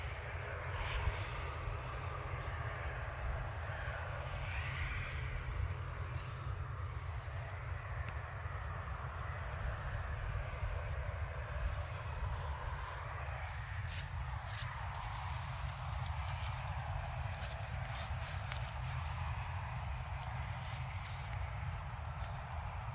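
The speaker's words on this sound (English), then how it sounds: "Ryanair on short finals, just about to touch down." A Ryanair airliner on short final touches down on runway 23L at Manchester Airport, a broad steady roar with low rumble persisting throughout from a distance, with no talk.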